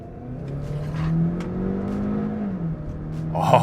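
Hyundai Santa Fe gasoline SUV in sport drive mode accelerating hard from inside the cabin, a steady engine drone rising in pitch through the revs with a brief gear-change dip near the end.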